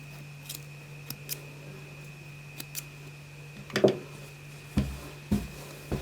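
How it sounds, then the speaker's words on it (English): Scissors snip through a strand of loose crochet yarn on a finished entrelac pillow, a few quiet close cuts spread across the clip, with a couple of firmer snips near the end over faint room hum. "you can go ahead and cut that loose yarn"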